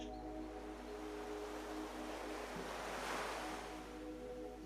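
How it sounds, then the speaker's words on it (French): Faint surf swells and recedes in a soft, breathy wash, with a low steady hum underneath and a gentle rise near the middle. "le bruit des vagues qui se brisent sur la plage"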